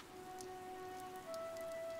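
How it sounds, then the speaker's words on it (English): Steady rain falls in Fire Emblem: Three Houses, a soft, even patter under faint sustained musical tones, with no voices. "This rain threatens a coming storm."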